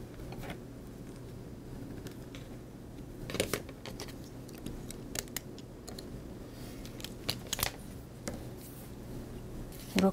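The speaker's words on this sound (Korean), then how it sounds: "이렇게 해서 보강제도 잘라주었습니다" Scissors snip through bag reinforcement material, a few sharp crisp cuts spaced irregularly over quiet handling noise, close and moderately loud, with no talking.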